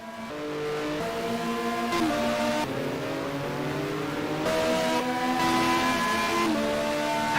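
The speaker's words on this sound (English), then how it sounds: "The Ferrari 550 is so loud." A Ferrari 550 GT race car in the racing game GTR roars loudly and continuously, its engine pitch climbing through gears with distinct upshift drops, close and alone.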